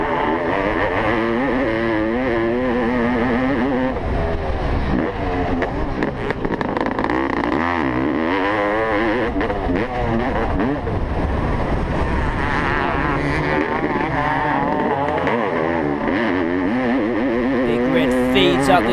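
Motocross bikes racing, led by an old 1989 Honda CR500 two-stroke under power: loud, continuous engine roar with rising and falling revs as the bikes climb hills, partly under an announcer's commentary.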